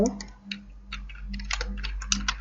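Keyboard typing and mouse clicks at a computer during a Photoshop lesson, a quick irregular run of light close taps and clicks, with a voice faintly underneath.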